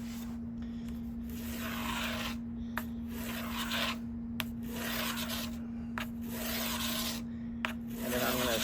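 A wooden guitar brace on a flamed maple 7-string guitar back is rounded over by hand, giving steady rasping, rubbing strokes in repeated bursts with brief pauses and a few sharp clicks, close and moderately loud, over a constant low hum.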